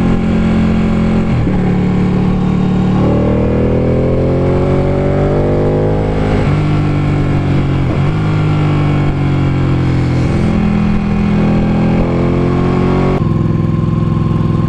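A Ducati 899 motorcycle engine runs loud and close on a test ride, its pitch rising through repeated revving climbs with abrupt drops at gear changes, a strong steady roar from start to finish.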